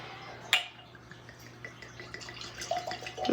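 Bunnahabhain 12 single malt whisky is poured into a glass, with a soft click near the start and a quiet liquid trickle and gurgle building toward the end.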